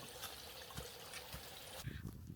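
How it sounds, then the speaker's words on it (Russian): A small forest stream trickles along the Patmalnieku Nature Trail in Latvia, a faint, steady watery babble with soft splashy bursts, heard at low level under light background noise. "Теперь впереди ручей."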